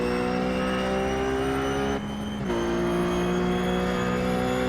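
A V8 Supercar in Bathurst 1000 qualifying at the Chase gives a loud, continuous engine drone that dips briefly under braking, then returns with a shifted pitch as it accelerates again.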